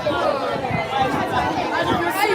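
Lively crowd noise at a dancehall show, with a thick wash of many voices talking and calling out at once, close and continuous throughout.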